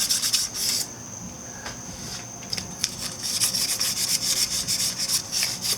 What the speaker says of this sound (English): this is just 1000 grit sandpaper, so it's not, you know,